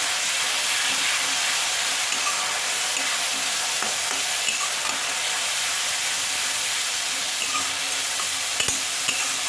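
Coriander with ginger, garlic and green chili paste fries and sizzles steadily in a pan, a continuous bright hiss broken by faint scrapes of stirring, with no voices, while cooking mutton dal gosht.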